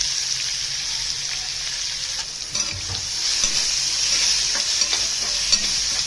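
Coriander paste with finely chopped onion and asafoetida sautéing in a pan, a steady close sizzle with scattered spoon scrapes and stirring noises; no voices.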